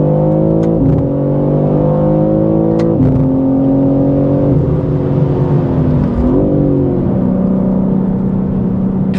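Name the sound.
BMW M3 CS driving fast on race track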